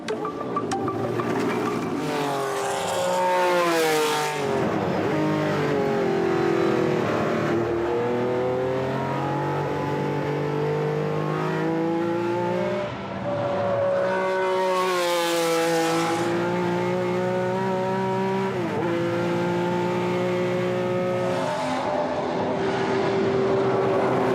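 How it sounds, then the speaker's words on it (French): A 600-horsepower V12 car driven hard on the Dijon racing circuit, its engine revving loud and close through repeated rising and falling sweeps as it accelerates and shifts, with no talk over it. "pour laisser s'exprimer pleinement les 600 chevaux de son V12, le circuit s'impose"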